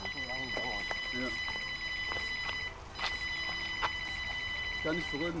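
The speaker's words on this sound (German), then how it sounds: "Alarma!" Electronic carp-fishing bite alarm going off at a gravel-pit lake, a loud, high continuous beeping tone that briefly cuts out and resumes, with people talking over it.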